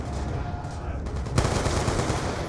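Gunfire in the video game Call of Duty Black Ops II Zombies, a loud dense burst of rapid shots that erupts partway through over constant background noise.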